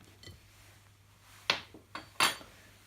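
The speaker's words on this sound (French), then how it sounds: "J'ai ajouté le troisième œuf et je continue à bien mélanger." Crêpe batter is stirred with eggs in a bowl, producing a few sharp, quiet clinks of utensil against the bowl in a short, uneven sequence over faint background.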